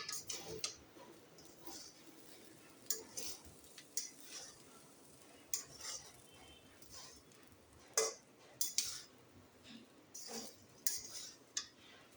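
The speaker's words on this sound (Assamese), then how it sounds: "ফ্ৰাইড ৰাইচটো আকৌ এবাৰ ভালকৈ মিলাই ল'ম।" A spoon stirs and mixes vegetable fried rice in a pan, making a series of soft irregular clinks and scrapes of metal on metal. The taps are faint and close, with no voices.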